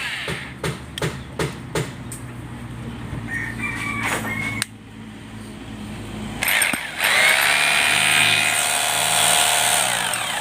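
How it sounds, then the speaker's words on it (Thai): A hammer drill running in hammer-drilling mode during a repair check on a DeWalt 7-inch angle grinder, with sharp knocking bursts at first, then a loud sustained whirring grind that ramps up and holds. "ลองเจาะกระแทกครับลองเจาะกระแทกอ่า"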